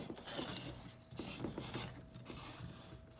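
A Fiskars circle cutter slices a small paper circle, giving a steady scratchy rasp with short rhythmic strokes, close and fairly quiet, with no voices.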